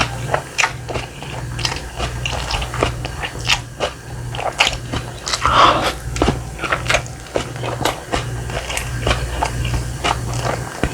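Someone bites into a convenience store burger and chews it up close, with soft crunching bites and steady wet chewing, and no one talks.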